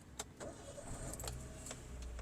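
A 2008 Suzuki Cultus car engine starts and settles into a steady idle, with a few sharp clicks at the start and a continuous low rumble close by.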